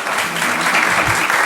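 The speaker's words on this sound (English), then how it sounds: "We'll let you clap for that." Audience clapping at a city council meeting, a steady burst of applause filling the room for the whole moment, fairly loud and close.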